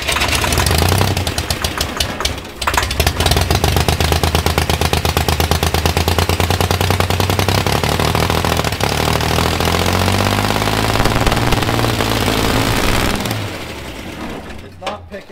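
A Bombardier snowmobile engine cranks and catches, a loud, close, rapid mechanical chugging and knocking that runs unevenly for most of the clip before easing off near the end.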